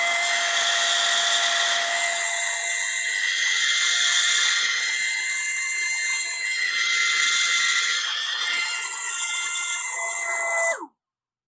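A model hovercraft fitted with a color sensor hovers with its fan running, making a loud, steady, close whirring drone with a few slight swells. The fan cuts off abruptly at the end.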